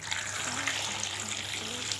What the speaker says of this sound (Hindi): पानी इसमें मैंने डाल दिया